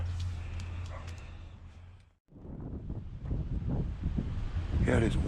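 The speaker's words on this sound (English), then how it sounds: "yeah, it is windy, folks." Gusty wind buffets the microphone outdoors on a street during scrap collecting, a steady low rumble that briefly drops out then returns stronger, with faint background sounds.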